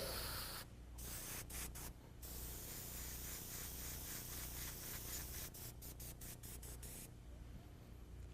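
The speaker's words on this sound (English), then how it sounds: "we sprayed red in there" Aerosol red spray paint hisses in several long bursts broken by short pauses, close and steady, with no talking.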